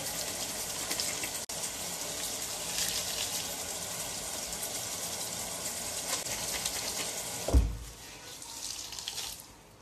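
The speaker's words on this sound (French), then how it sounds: "et vous rincez bien." Tap water gushing steadily while a cotton makeup remover pad is rinsed under it in a sink, a close, continuous splashing with a brief louder surge near the end.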